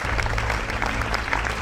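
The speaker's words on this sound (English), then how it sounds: "Give them a huge round of applause." Award ceremony audience claps for the winners, a brief, moderately loud burst of continuous applause lasting under two seconds.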